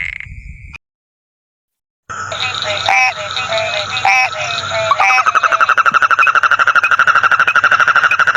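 Frogs croak in a loud, close chorus: a short burst, a pause of silence, then repeated harsh croaks building into a dense, rapid, pulsing call that runs steadily to the end.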